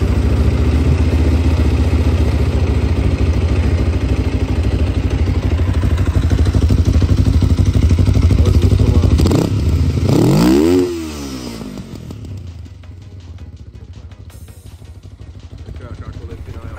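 A Kawasaki GPZ 500S carbureted motorcycle engine runs loudly and steadily up close, swells in a brief rev, then drops abruptly to a quieter, even idle.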